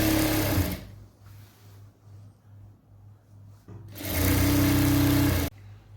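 A sewing machine stitches the back portion of a pair of straight pants, folding a half-inch hem. Two loud, steady runs of motor whir, the second longer, separated by a quiet pause.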